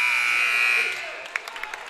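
Basketball game buzzer at a varsity high school game, a loud sustained electronic tone that cuts off after about a second, followed by scattered sharp gym sounds and faint crowd noise.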